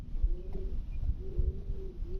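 Giribaz pigeons coo close by in a quiet space, giving two or three low, soft, rolling calls over a steady low background rumble.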